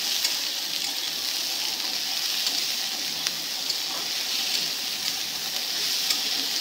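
Chicken and onion fry in a little oil, with a dense, even sizzle and crackle close up, steady throughout with faint scattered pops.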